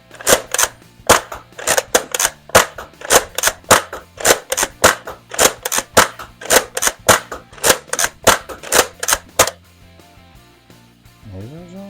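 An X Shot Insanity Berserko toy blaster fires foam darts in a fast series of about thirty sharp, loud snapping pops, close by, then stops, leaving faint handling noise.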